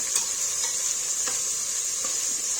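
Onions fry with spices in hot oil for tomato rice, giving a continuous close sizzle broken by a few light scrapes of a stirring spoon, with no voices.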